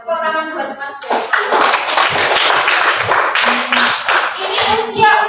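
Children in a primary school religious-studies class clap together, a dense burst of hand claps that starts after a brief moment of voices and carries on steadily with a few quicker accents.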